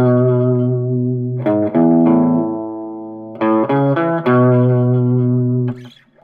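Twangy electric guitar notes in a rockabilly tone ring out with a pulsing tremolo and a big washy reverb tail, played alone in a short melodic phrase.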